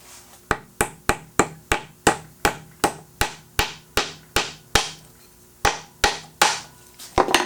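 Repeated sharp hammer strikes driving pieces into drilled holes in an end table, about sixteen evenly spaced blows ringing out close by, with brief pauses between some hits and no talking.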